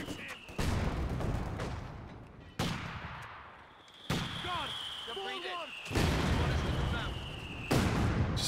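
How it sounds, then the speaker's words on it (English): Mortars in Company of Heroes 2 fire shell after shell in heavy, booming blasts that crash in every few seconds over a rumbling battlefield, with whistling rounds arcing through the middle and a voice talking faintly beneath. "So many mortars just firing shells in every direction."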